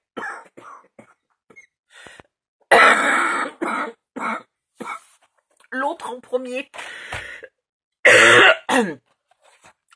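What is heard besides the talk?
coughing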